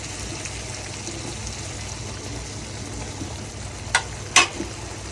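Water goes into a brinjal masala curry cooking in a pan, a steady low sizzle and bubbling near at hand, with two brief sharp clinks toward the end.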